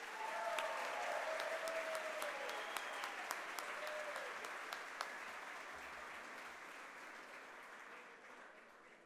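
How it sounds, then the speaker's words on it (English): Sustained audience applause at an indoor Hall of Fame induction ceremony for lacrosse, steady dense clapping from a large crowd throughout, gradually easing slightly toward the end. "Let's have a round of applause for our Hall of Famers."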